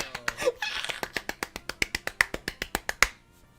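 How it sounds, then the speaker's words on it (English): A single person clapping hands close to a microphone while playing a Pokemon Emerald game, about twenty sharp, evenly spaced claps in quick rhythm, loud and dry, with a brief laugh at the start. "Yeah, I was clapping!"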